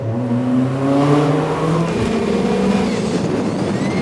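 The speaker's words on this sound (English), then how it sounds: "The way this car sounds is just spectacular." A Kimera EVO38, a reborn Lancia, revs hard with its exhaust flaps open inside a tunnel, a loud mechanical roar that rises in pitch and echoes off the walls, with no talking.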